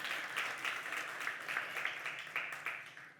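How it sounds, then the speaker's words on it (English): An audience at a keynote speech launching an African mayoral leadership initiative applauds a host mayor, with a moderate burst of many hands clapping that fades toward the end. "Please clap for her because she's my host mayor"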